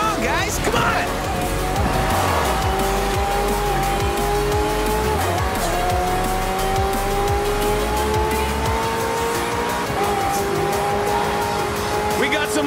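Race cars and hypercars in Forza Horizon 4 roar continuously, with engines rising in pitch through gear shifts and tires squealing, loud and dense, while a voice talks over the action.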